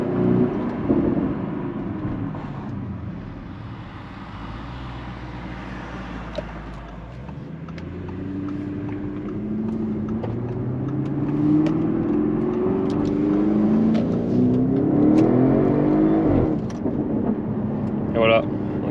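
An Audi RS6 Performance with a 4-litre twin-turbo V8 of 605 horsepower and a full Akrapovic titanium exhaust pulls hard, its engine note climbing steadily in pitch as a voice talks over the roar.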